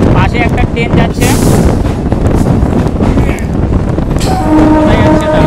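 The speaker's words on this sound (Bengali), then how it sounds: "পাশে একটা ট্রেন যাচ্ছে" A Madras-to-Kolkata train passes close alongside near Kolkata station, its rumble mixed with heavy wind buffeting. A horn-like tone sounds toward the end, and people talk over it.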